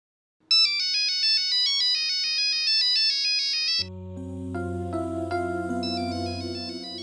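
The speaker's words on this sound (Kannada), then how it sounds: "ಫೋನ್ ಬಂತು ಅವ್ರದೇ." A mobile phone rings with a melodic electronic ringtone, a bright looping tune of stepped tones that shifts midway into a fuller, lower melody, clear and close with no voices over it.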